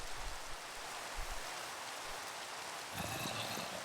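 Steady rain hiss in Minecraft, a continuous wash of raindrops that grows louder and brighter near the end, with no talking over it.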